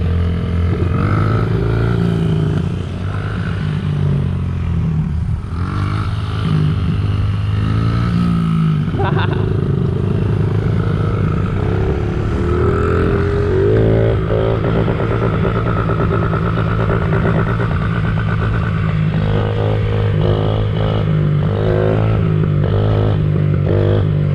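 A pit bike engine revving hard in first gear, a loud close drone that rises and falls in pitch through repeated throttle pulls, with someone talking over it.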